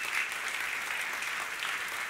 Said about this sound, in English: I'd ask you guys to applaud that